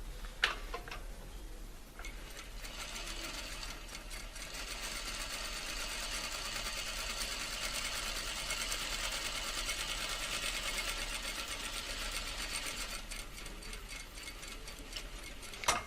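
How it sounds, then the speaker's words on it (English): A sewing machine stitches straight parallel lines on a fabric sample, running at a steady, fast mechanical whir with rapid ticking for about eleven seconds, with a few clicks as it starts and stops. "I'm going to continue down my sample, stitching each line, keeping them parallel with each other and keeping them straight."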